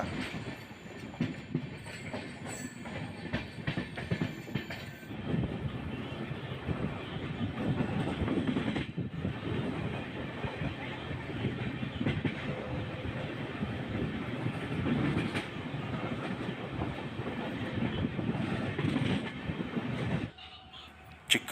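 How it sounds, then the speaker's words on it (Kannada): A MEMU train rolls into Yeshwantpur railway station, its steady rumble and clickety-clack of wheels on rails loud and continuous for about twenty seconds before cutting off abruptly, with no talking. "ಯಾವುದು memo train Yeshwanthpur railway station ಒಳಗೆ ಹೋಗ್ತಿದೆ"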